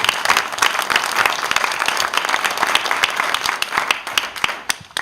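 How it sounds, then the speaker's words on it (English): Audience applause at a community streets initiative meeting, a dense steady patter of many hands clapping at moderate level for about five seconds, thinning slightly near the end. "Another round of applause"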